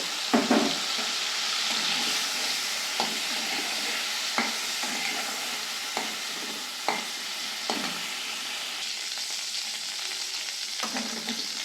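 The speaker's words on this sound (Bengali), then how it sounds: "আর এক চামচ তেল দিয়ে দিয়েছি এবার পটলগুলো আমি ভেজে নেব" Pointed gourd fries in oil in a wok with a steady, close sizzle, while a spatula periodically scrapes and taps the pan in irregular knocks.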